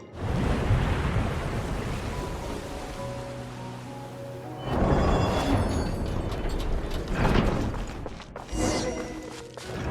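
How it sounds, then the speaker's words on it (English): A drainage mechanism in Genshin Impact empties a water chamber, with mechanical clanking and a rush of water that swells in two surges over a steady watery wash. "now turn on the drainage mechanism in front of the second sluice gate, and this chamber will become empty once again"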